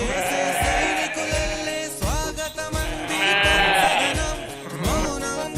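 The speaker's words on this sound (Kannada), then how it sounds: "ನಮ್ಗೆ ವೆಲ್ಕಮ್ ಹೇಳಕ್ಕೆ ಮೇಕೆ ಎಲ್ಲ ಬಂದ್ವು ನೋಡಿ." Several goats bleat repeatedly, loud and near, their wavering cries overlapping one after another with no talk.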